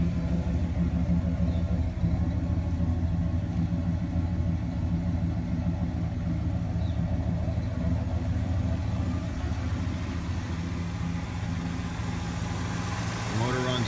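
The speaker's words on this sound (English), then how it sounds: "It's got brand new flow masters on it," A 1967 Chevelle Malibu idles with brand new Flowmaster exhausts, a steady deep low rumble throughout, fairly close, while a person talks over it.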